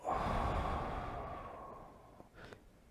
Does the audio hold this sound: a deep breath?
yes